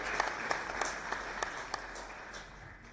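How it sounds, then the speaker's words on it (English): Applause at the launch of the South African National Service Institute welcomes Dr. Carolison to the stage, a thin, steady patter of clapping from a modest crowd in a hall, heard at a moderate distance and fading slightly toward the end. "let's give them a big round of applause to welcome Dr. Carolison to the stage"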